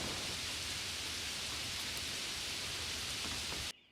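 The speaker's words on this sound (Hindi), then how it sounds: "बहुत दिनों बाद जोरदार बारिश हुई।" Heavy rain pours in a dense, steady hiss that fills the scene at a constant loud level, then cuts off abruptly at the end, used as a sound effect in a story.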